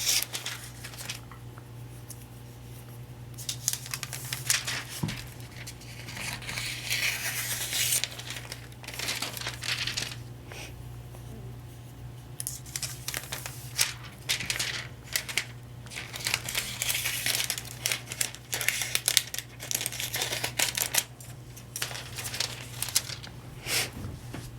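Foil being cut with scissors into a few pieces, close-up crinkling and snipping in irregular bursts over a low steady hum, with no talking.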